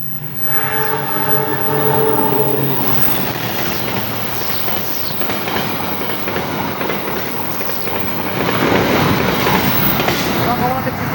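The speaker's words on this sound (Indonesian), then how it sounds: "Lokomotif CC201 kereta api Bengawan." A CC201 locomotive hauling the Bengawan train sounds a long, loud multi-tone horn, then its heavy diesel roar and the rolling clatter of carriages fill the rest, close and steady.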